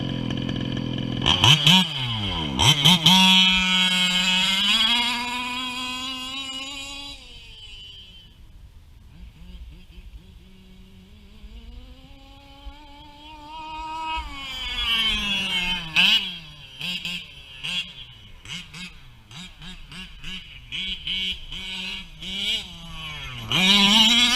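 Nitro engine of a 1/5 scale RC race car kit, revving loudly with rising pitch, dropping to a lower idle midway, then sharp repeated throttle blips, close and raw with no talk.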